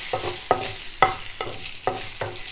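Chilies with asafoetida sauté in a pan, a steady sizzle broken by about six regular, sharp scraping strokes of a stirring spoon, close and fairly loud.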